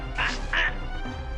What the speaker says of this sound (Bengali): বাঘ মিউ মিউ শব্দ করে গাছের গুড়িতে গলা ঘষছে